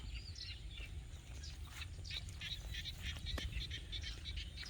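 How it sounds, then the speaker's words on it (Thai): Frogs croaking across an open rice field, a steady chorus of repeated chirping calls that runs the whole time over a low background rumble, moderately distant. "เสียง กบเสียงเขียดร้องนะครับ"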